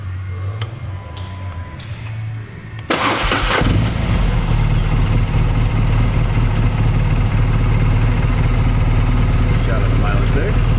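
A 2010 BMW R1200GS motorcycle engine cranks and fires after a few quiet clicks, then settles into a loud, steady, close idle for the rest of the clip.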